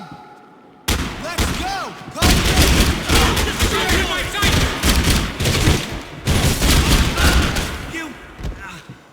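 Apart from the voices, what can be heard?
gunfire in the video game Max Payne 3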